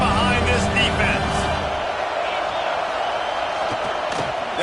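Stadium crowd noise from a college football video game swells behind the defense on a big third down, a steady roar of cheering with broadcast commentary talking over it throughout.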